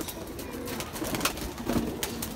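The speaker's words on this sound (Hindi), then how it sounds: "आप कबूतर देख लीजिए, ये सेल के लिए आए हैं भाइयों" Saharanpuri pigeons, two pairs of males and females, coo in soft low repeated calls close by, with faint rustling and background noise around them.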